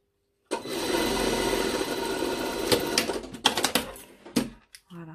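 A sewing machine stitches a modified sleeve seam on a top, running in a fast steady burst for about three seconds, then in short stop-start runs, close and loud with no talk.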